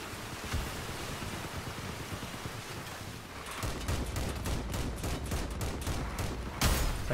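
Gunfire from a vehicle battle in the game Crossout, with machine guns and autocannons. It is a faint, dense fusillade of rapid shots that grows busier halfway through, with a sharper burst near the end.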